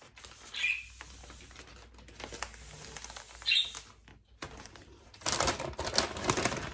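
Wrapping paper folded around a Christmas present, giving crisp crinkles and rustles in short bursts, with a louder, busier stretch of crumpling paper near the end; no speech.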